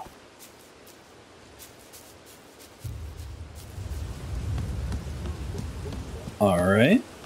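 Rain falls in the video game Bugsnax as a steady hiss that swells louder partway through, with a brief bright tonal burst near the end.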